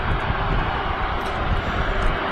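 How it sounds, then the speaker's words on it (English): A Ryanair jet taxiing out at Manchester Airport on its way to Madrid, a steady, loud whine and rumble of jet engines with no talk over it. "Behind the Virgin aircraft will be the Ryanair service to Madrid"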